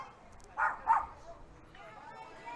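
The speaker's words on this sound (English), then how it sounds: "There's that dog you was talking about earlier." A dog at a college softball game gives two short, sharp barks in quick succession, moderately close, with a commentator's voice running underneath.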